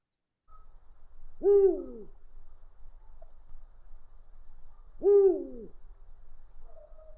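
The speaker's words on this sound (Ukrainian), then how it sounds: "послухайте, який дивний голос у пугача" Recorded Eurasian eagle-owl giving two deep, resonant hoots about three and a half seconds apart, clear and isolated against a quiet background.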